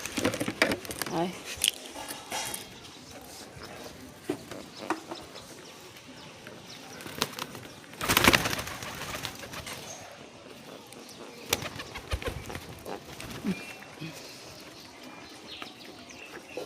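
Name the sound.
pigeons cooing and flapping while feeding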